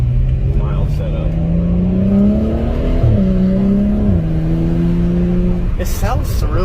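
Exhaust of a 2012 BMW 135i heard from inside during a ride along, a steady droning engine note that rises and dips as the car revs and shifts, loud and continuous, with a brief tire or road noise at the end.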